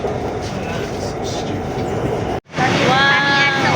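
BTS Skytrain in Bangkok rolling along with a loud rumbling rattle inside the car, a sudden brief dropout, then grinding wheel squeal and clatter as it brakes into a station.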